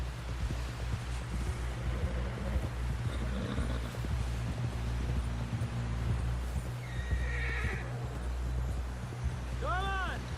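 Horse whinnies and clip-clopping hooves in Red Dead Redemption 2, a steady trot under game ambience and talking voices, with a sharp rising neigh near the end.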